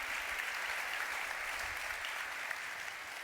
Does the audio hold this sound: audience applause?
yes